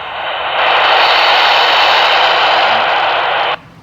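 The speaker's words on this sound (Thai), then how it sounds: "ลำโพงดังมากนะครับ เราเร่งเสียงได้นะครับ กดมอนิเตอร์" An ICOM IC-V86-T handheld radio's speaker with the monitor button pressed, giving a loud, steady burst of open-squelch static hiss that starts abruptly, holds for about three seconds and cuts off.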